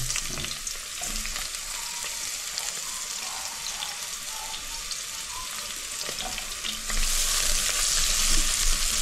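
Chopped onion and garlic fry in hot oil for pineapple chicken, a continuous bright sizzle that swells noticeably louder about seven seconds in. No one speaks.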